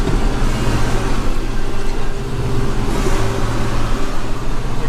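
A Kubota Grand L6060 tractor clears snow from a road with a snow blower attachment, its engine and blower giving a steady, loud droning rumble close by throughout, with no talk.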